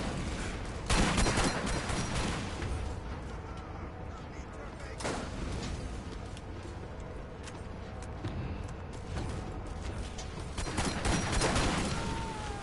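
Enemy gunfire in the Borderlands shooter, a steady spread of shots and blasts over a busy game soundscape, with several heavy bursts and a voice talking over the action.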